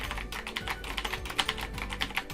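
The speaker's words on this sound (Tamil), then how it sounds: "சும்மா ஒரு அப்ராக்சிமேட்டாக டைப் பண்ணுறேன், அதில் வேர்ட்ஸ் இருக்காது," Quick, uneven bursts of key presses on a computer keyboard, close and clear, with no voices present.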